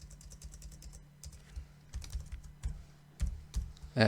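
Typing on a computer keyboard while entering PySpark code, irregular close keystrokes in quick uneven bursts, quiet between clusters, with no talk.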